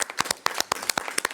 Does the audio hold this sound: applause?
yes